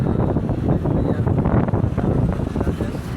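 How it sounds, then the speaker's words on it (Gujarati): Strong wind blows across open village countryside, buffeting the microphone with a dense, low rumbling roar that stays loud and steady throughout, with no clear speech. "તો જોઈ શકો છો ઘણું બધું એક નંબર પવન આવે છે અને ખુલ્લું વાતાવરણ છે"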